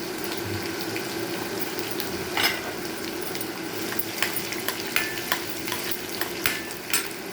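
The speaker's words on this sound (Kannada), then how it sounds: "ಆಮೇಲೆ ಒಂದು ಬೀನ್ಸು ಕ್ಯಾರೆಟು ಹಾಕ್ತಾ ಇದ್ದೀನಿ ನೋಡಿ" Green beans and carrots fry in a pan for vermicelli upma, giving a steady, close sizzle broken by a run of light stirring scrapes and taps, with no voices.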